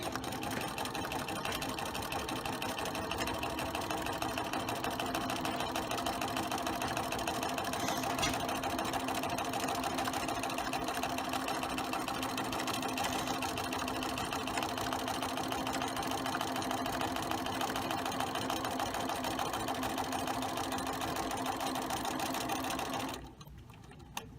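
A sewing machine runs steadily, stitching a buttonhole on a pair of shorts: a continuous fast, even mechanical whir held for over twenty seconds, then stopping abruptly near the end.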